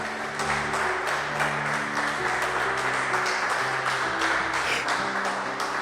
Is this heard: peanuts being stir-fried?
no